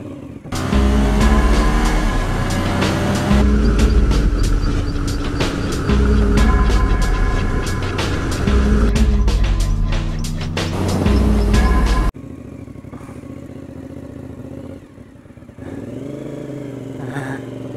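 A classic motorcycle on a parade lap at Donington Park revs loudly nearby with rhythmic throttle blips for about twelve seconds, then cuts to a quieter, more distant engine drone.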